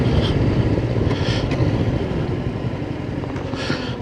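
A Honda NX500 motorcycle being ridden through the Tweed Valley in NSW, its engine a steady close drone with rumbling low tones and wind noise, continuous and loud for the whole stretch, with no voices.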